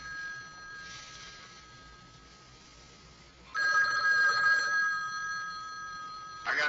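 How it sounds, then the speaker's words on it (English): A telephone rings in short electronic bursts, a faint trill first and then a louder ring, with quiet background hiss between. "Pick up the phone, Vernon."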